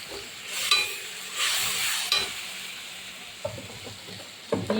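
Spice masala for a fish curry fries in a pan, sizzling and hissing while it is stirred in several scraping bursts, with wet splashes toward the end.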